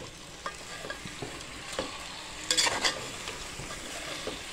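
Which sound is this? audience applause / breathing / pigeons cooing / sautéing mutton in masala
sautéing mutton in masala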